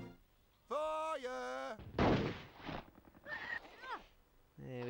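In the Hogs of War video game, a single sharp sniper shot cracks out loud and close, then fades off. High, squealing cartoonish character cries come just before and after it.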